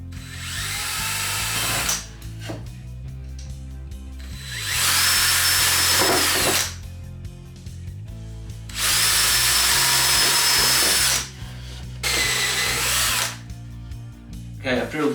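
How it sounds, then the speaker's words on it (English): A power drill bores holes through wood for a crate with cut-out handles, running in several loud whirring bursts of a few seconds each, separated by pauses with the motor winding down and quiet handling. "Okay, I've drilled holes just in the front and the back"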